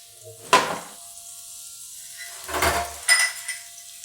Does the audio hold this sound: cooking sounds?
yes